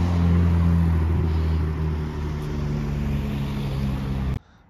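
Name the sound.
Ferrari 296 engine revving at night in Monaco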